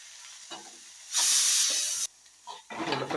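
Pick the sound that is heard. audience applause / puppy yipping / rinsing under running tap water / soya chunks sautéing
soya chunks sautéing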